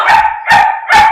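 A dog barks three times, loud and close, in an even rhythm with brief gaps between the barks.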